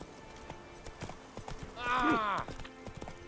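Horse hooves clip-clop in a steady walking rhythm while riding through the Witcher 3 video game, with a brief whinny midway and someone talking over the hoofbeats.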